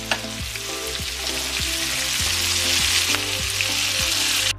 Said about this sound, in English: Gonna saute the shrimp in here for about 5 minutes